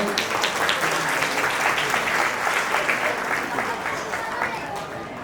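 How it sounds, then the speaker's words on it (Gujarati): Audience applause rises to welcome a comedian onto the stage at a New Year community get-together in Navsari, a dense, steady clatter of many hands filling the hall for several seconds and easing slightly at the end. "તાળીઓના ગડગડાટથી એમને વધાવી લેજો."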